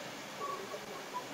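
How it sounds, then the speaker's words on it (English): A phone sounds a text message notification indoors: a few short, faint electronic tones over quiet room background, with no speech. "That was my phone."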